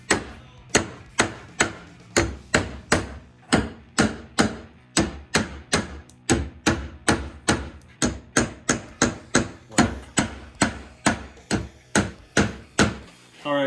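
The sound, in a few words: center punch hammered into ski at drill marks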